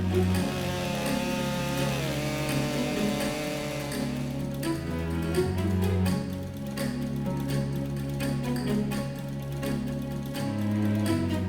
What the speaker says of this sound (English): The MS500i is a fuel-injected petrol chainsaw.